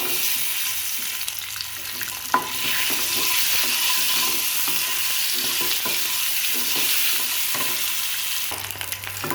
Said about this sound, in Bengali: এবার কড়ার মধ্যে দিয়ে দেবো ডিমগুলো ডিমগুলো প্রথমে একটু হালকা করে ভেজে নেব